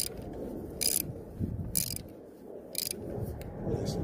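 Ratcheting clicks while tightening a part during an oil change on a 2010 Cadillac CTS, bursts of rapid close clicking separated by short pauses, moderately loud.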